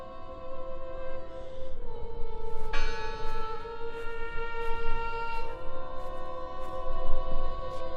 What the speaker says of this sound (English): The bell's still ringing.